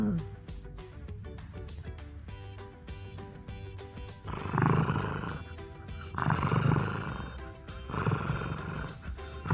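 A fox gives a low, rumbling growl-like vocalization resembling an idling old diesel engine, swelling in three loud bursts over background noise, with people talking nearby.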